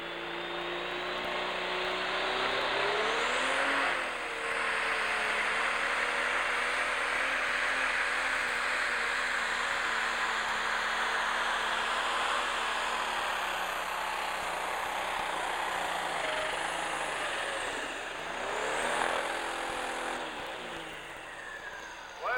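A pro stock pulling tractor at a 1999 Arcola, Indiana pull screams at high RPM, a loud sustained engine wail with pitch rising and falling as it revs across the run.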